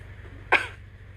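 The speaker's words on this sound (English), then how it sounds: "No, it's a cough." A single short cough, fairly close and clear, against a quiet background with a low steady hum.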